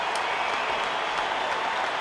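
A sellout baseball stadium crowd at a San Diego Padres game applauds and cheers Tony Gwynn's final at bat, a dense, continuous roar of clapping that fills the whole moment.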